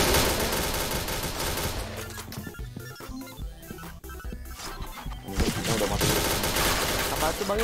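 Rapid gunfire from the online shooter Point Blank crackles in dense automatic bursts, dropping to a sparse gap midway before the firing resumes loud and continuous, mixed with game sounds.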